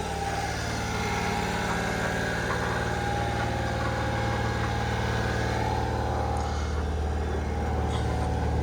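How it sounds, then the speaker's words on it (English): A 1995 Honda Acty small truck engine idles steadily with a low, even rumble and slight vibration, close by, with no talking. "it idles up a little high when you first start it up"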